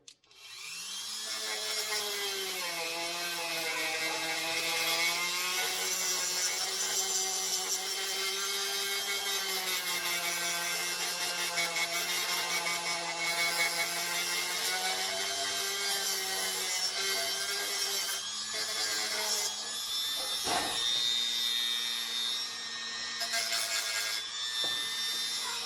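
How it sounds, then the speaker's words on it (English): A Dremel rotary tool smooths a die-cast 8RT part, producing a steady high-pitched whine with a grinding rasp that holds for over twenty seconds, with slight pitch shifts and brief interruptions near the end, close and continuous. "time to go hit that with the Dremel, get it smoothed up, ready to go for paint"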